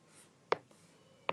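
Pen strokes writing out a math calculation, two short, sharp taps about three-quarters of a second apart with faint scratching between, close and quiet, no talk.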